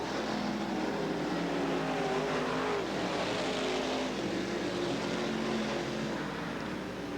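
Race cars circling an oval track at Southern Oregon Speedway, a steady loud engine drone sustained throughout with shifting tonal harmonics as several cars pass in close formation.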